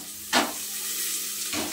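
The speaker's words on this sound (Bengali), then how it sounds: "দেখো পেঁয়াজ গুলো ভাজা হয়ে যাচ্ছে" Onions fry in hot oil tempered with cumin, dried chillies and bay leaves. A loud, steady sizzle fills the pan up close, and stirring brings brief hissing bursts at the start and near the end.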